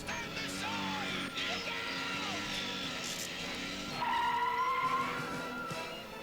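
Cartoon ATV brakes hard and skids, a rising squeal-like tone sweeping across the middle of a busy, loud mix of engine noise, yelling and music.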